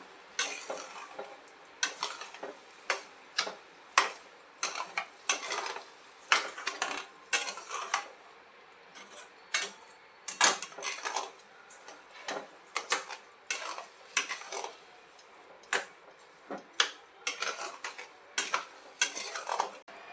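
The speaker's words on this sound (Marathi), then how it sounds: "सव्वा वाटी साखर आहे चांगले मिक्स होईपर्यंत होऊन घ्या" Sugar being stirred into semolina sheera cooked in ghee in a pan, heard as a brisk rhythmic run of sharp metallic scrapes and clacks from a spoon against the pan, close and loud with no speech.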